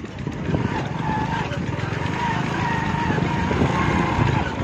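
A motorbike rides slowly along a rural path past paddy fields, its engine a steady, moderately loud drone with wind-like rushing noise and no clear rise or fade over the whole stretch.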